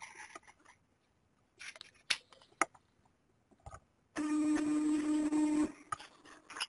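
Office printer running an inventory adjustment printout, preceded by scattered clicks and taps, then a steady mechanical whirring buzz with a tonal hum lasting about a second and a half, close and alone.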